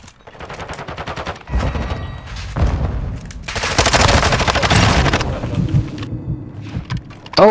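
Gunfire and a grenade blast in an online shooter ring out loudly, with sharp rapid shots early on and a heavy sustained explosive roar in the middle, no talk over it.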